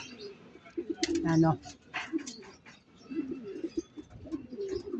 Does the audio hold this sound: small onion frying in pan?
no